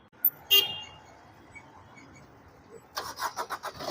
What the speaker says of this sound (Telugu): ఒకసారి ఇంజిన్ కూడా స్టార్ట్ చేసి చూపిస్తానండి మీకు నేను.